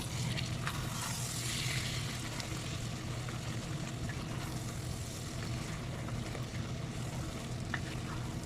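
Masala and potatoes fry in a pan for a Pakistani chicken korma, giving a steady, close, continuous sizzle with faint stirring scrapes throughout.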